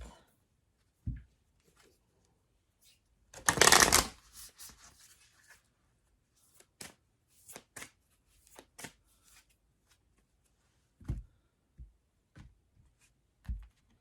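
A deck of oracle cards is shuffled during a tarot reading, with one loud, close riffle followed by scattered soft taps and card snaps spaced across the quiet stretch.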